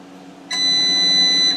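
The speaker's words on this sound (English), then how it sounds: "press the button on the timer so it goes on for 3" Darkroom exposure timer switching on for a three-second exposure while making a black and white proof, a loud, steady high-pitched electronic tone that starts abruptly over a low background hum and holds continuously to the end.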